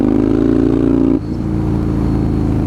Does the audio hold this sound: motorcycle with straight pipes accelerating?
yes